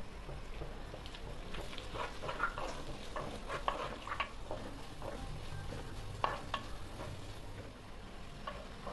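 Onion and curry leaves frying in a pan for Kerala fish molee, a quiet sizzle under scattered ticks and clinks of stirring against the pan.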